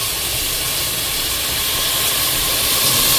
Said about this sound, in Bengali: মাস্টার্ড অয়েল দিয়ে দিলাম, এবার আমি অলিভ অয়েল দিচ্ছি।